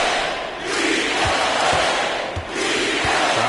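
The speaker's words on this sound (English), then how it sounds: "Crowd inside." Crowd cheering in an NBA 2K basketball video game late in the fourth quarter, a steady broad roar with swells and dips throughout, no voices distinct above it.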